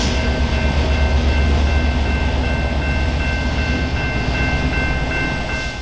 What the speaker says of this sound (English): the aforementioned yard job was switching with a pair of CP EMD standard cab locomotives